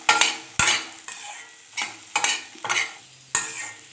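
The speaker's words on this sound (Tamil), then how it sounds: "உருளைக்கிழங்கு ஆயிலில் நல்லா ஃப்ரை ஆகணும்." Mashed potatoes fry in oil for a poori masala as a spatula stirs them, giving six or seven distinct scraping clanks against the pan over a faint sizzle, close and rhythmic.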